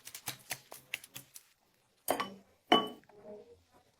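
Cream with a pinch of salt is mixed in a bowl with a utensil: a quick run of light, rhythmic clinks against the bowl, a pause, then two louder scraping knocks and fading stirring, fairly quiet and without talk.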